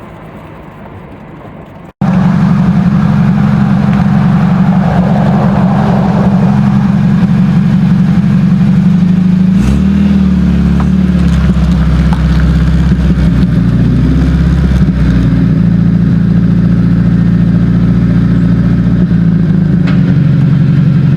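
A 1980 Triumph TR7, abandoned for seven years, runs loud and close while driving, its steady engine drone shifting in pitch as it pulls and slows, with no talk over it.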